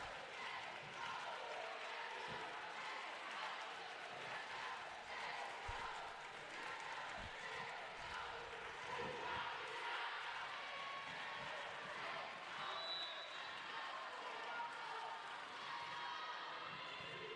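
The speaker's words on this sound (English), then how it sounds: "Saints crowd has some cheers going here." Saint Martin's home crowd cheering and applauding at a college volleyball match against Adelphi, a steady wash of massed voices and clapping that fills the gym without pause.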